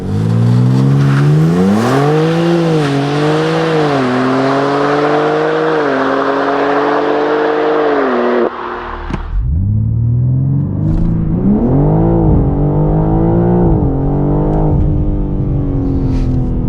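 A 680 hp BMW M3 Touring accelerates hard from a launch, its engine loud and close, climbing through the revs, cutting briefly on an upshift, then pulling again with a rising, rasping howl.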